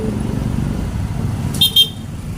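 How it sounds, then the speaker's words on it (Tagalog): Steady road traffic rumbles on a congested street on the Day of the Dead, with two short car horn toots close together near the end. "At traffic na dito, guys."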